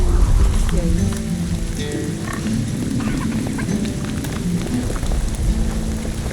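Steady rain pours in The Witcher 2: Assassins of Kings, a constant loud, dense patter with faint low rumbling underneath and no break.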